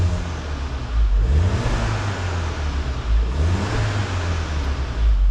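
A Volkswagen Golf GTI Mk7 Performance Pack engine, heard from outside the car, idles with a low hum and is revved twice, each rise swelling and falling back, at moderate loudness with no voices.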